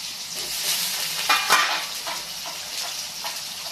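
Diced potatoes fry in hot oil for sabudana khichdi, giving a steady close sizzle with a few louder crackling bursts partway through.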